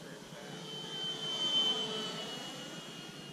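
A radio-controlled FMS F4U Corsair model plane flies low, a faint, thin whine of its motor and propeller that swells slightly as it passes and then fades.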